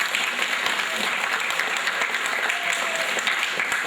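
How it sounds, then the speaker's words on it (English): Steady applause from an audience at an outdoor Flag Day event, a dense, even patter of many hands clapping at close range throughout. "Give him a round of applause."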